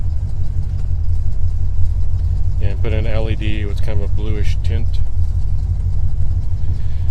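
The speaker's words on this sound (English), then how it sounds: "since we have the engine running" The engine of a 1981 Corvette idles with a steady, loud low rumble throughout, while someone speaks over it.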